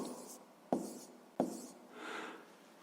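A pen scratches and taps on paper while a math solution is written out, with two sharp taps among soft, close strokes and no talking.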